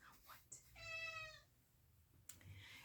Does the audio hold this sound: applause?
no